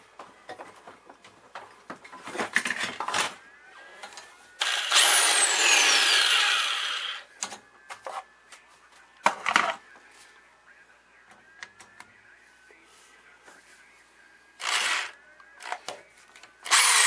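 A power drill whirs in short bursts drilling out a rivet during a Philco 38-7CS radio restoration, with clicks, scraping and handling noises between them.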